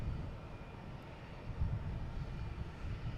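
An Aer Lingus airliner comes in to land at Boston Logan, a low, steady engine rumble at a distance that grows a little louder partway through.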